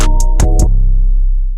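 An out-of-tune 808 bass plays a deep, sustained booming note with a few sharp hi-hat-like ticks on top, loud and close, the low tone lingering muddily before fading out.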